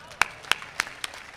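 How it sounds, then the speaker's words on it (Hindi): Four sharp, evenly spaced claps ring out at a Hindi comedy poetry show (hasya kavi sammelan) in Mumbai, sounding thin rather than like full applause, over a quiet hall. "आपकी तालियां कमजोर है"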